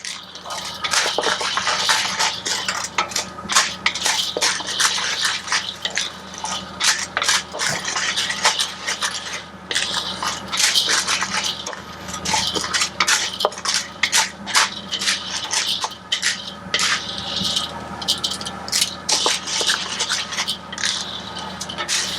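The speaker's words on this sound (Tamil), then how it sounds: "நல்ல ஒரு கடலைப்பருப்பு நல்லா வறுக்க ஆரம்பிச்சிச்சு" Chana dal roasts in oil in a pan for idli podi while a spatula keeps stirring it, producing a continuous close rattle of scraping and gritty clicks with no voices.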